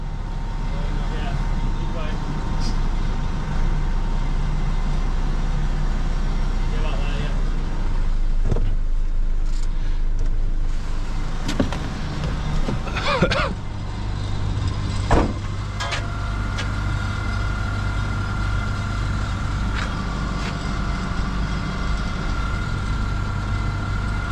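Van engine idling on a building site while it is moved forward slightly: a low, steady rumble that shifts pitch partway through, with people talking over it and occasional clanks.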